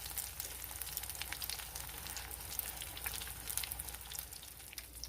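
Mac and cheese balls deep-fry in hot grease, giving a soft, even sizzle with fine crackling that stays faint and steady throughout, with no talking.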